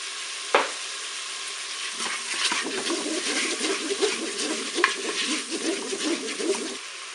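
Onions and curry powder frying in a Cookeo multicooker while pasta with tuna is being made, a steady crackling sizzle with soft stirring scrapes, starting with a sharp clack and running close and even for several seconds.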